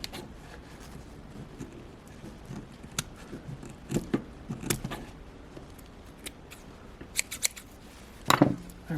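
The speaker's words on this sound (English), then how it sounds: "So I'm gonna use my hand to push them all forward and do some trimming." Scissors trimming the ends of a sari silk fiber tassel for a necklace: a series of quiet, close snips, irregular at first, with a sharper cluster of cuts near the end and faint handling rustle between.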